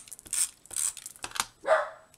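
A dog barks several times in quick, sharp bursts, fairly close, with short gaps between the barks.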